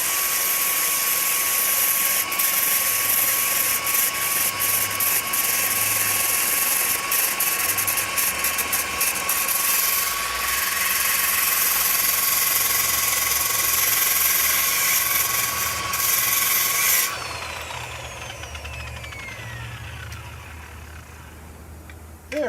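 A rotary polisher whirs steadily as a spur scrapes old dried polishing compound off its pad to fluff it up again, a constant close mechanical drone that drops away after a while as the machine spins down.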